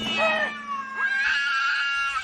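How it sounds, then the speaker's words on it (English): A cat yowling in a long, wavering caterwaul, loud and close, rising and falling in pitch across two drawn-out cries with a hissing edge. "the cat did not understand what he meant to do, and flew in his face, spitting and scratching"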